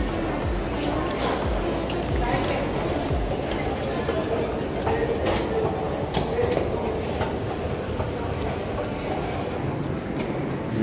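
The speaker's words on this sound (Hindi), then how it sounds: "अब वो एक रेड वाली मेट्रो चलती है" A metro train in Milan rumbles steadily throughout, a continuous loud roar of wheels on track with faint clattering and no clear pauses.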